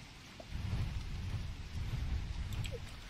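Rain falls steadily in the survival video game Don't Starve Together, a dense, even patter with a low rumble beneath it, lasting about three seconds with no speech.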